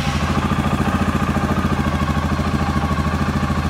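2007 Suzuki KingQuad 700 ATV with charging and running issues, its engine idling steadily with a loud, even, rhythmic chug close by and no talking.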